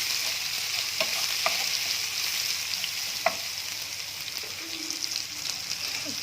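Garlic paste frying in oil for a masoor dal masala, a steady close sizzle with a few stirring scrapes and small pops over about six seconds, no talking.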